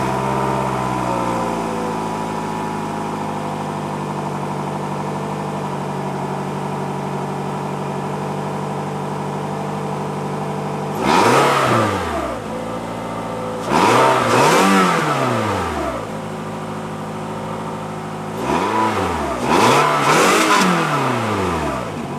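A 2016 Toyota RAV4 with a 2.5-liter four-cylinder idles steadily, then revs sharply three times, each burst rising and falling back to idle, heard up close without talking.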